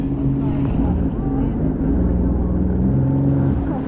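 A jet ski engine on open water on a run to Catalina, easing off the throttle: a loud, steady droning hum with a slight drop in pitch, accompanied by rushing wind and water noise.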